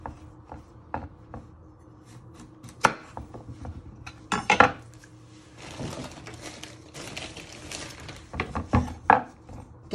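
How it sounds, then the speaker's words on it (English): A knife chopping the ends off a courgette on a board while a Thai green curry is prepped, with a few sharp, irregular cutting knocks and clatters close by. "Next step is to prep your courgette. You first chop your ends off."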